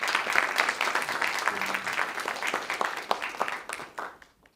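An audience at a life sciences panel event in San Diego claps steadily, a dense patter of hands that stays even for several seconds and then thins out and fades near the end.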